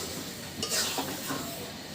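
Mango pickle stirred in a pan as it cooks, with a steady soft sizzle and a few scraping strokes of the spoon against the pan, close and moderately quiet.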